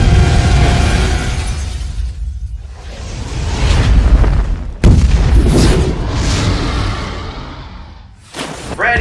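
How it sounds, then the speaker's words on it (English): A dock explodes in the film Freddy vs. Jason, loud booming blasts with rushing debris and crackling, a sharp burst near the middle and another near the end over sustained rumbling. "They explode the dock!"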